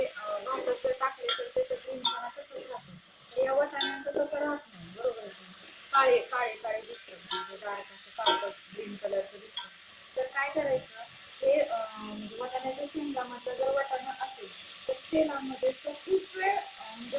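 Peas, potato and carrot frying for pulao, a low sizzle with stirring under someone talking almost continuously.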